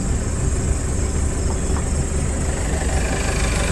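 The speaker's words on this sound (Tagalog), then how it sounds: "Yung motor na Unil, no?" A motorcycle engine idles steadily and loudly close by, a continuous low rumbling drone with no revving, heard outdoors in the evening with no one speaking.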